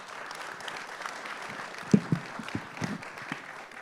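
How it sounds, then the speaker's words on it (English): An audience applauds a panel at a talk on immigration enforcement, with a soft, diffuse patter of clapping and a few sharper, closer claps standing out. "please give our panel a big round of applause"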